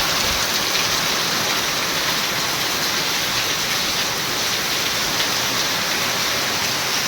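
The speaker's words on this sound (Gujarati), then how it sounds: "એવી રીતે ઘણો વરસાદ છે" Heavy rain pours down at night in a rural village setting, a dense, even hiss of water striking surfaces that holds steady throughout with no voices.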